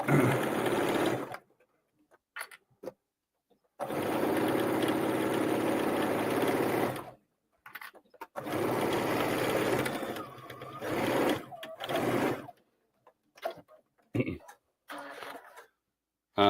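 Sewing machine stitching a narrow seam on fabric, long steady whirring runs broken by pauses and short bursts, close and loud, with a voice talking in the gaps.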